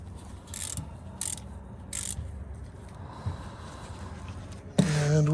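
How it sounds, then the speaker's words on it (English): A socket wrench tightens a fastener during a car oil change, with a few short ratcheting bursts spaced apart and then a louder clatter and hum at the end, in a quiet garage setting. "we got our socket, and we want to make sure that we're righty-tighty"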